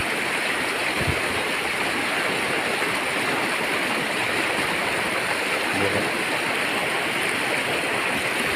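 Fast-flowing stream water rushes past where a young elephant plays, a steady, broad wash of sound with no breaks, close and loud, with a couple of faint low thumps under the flow.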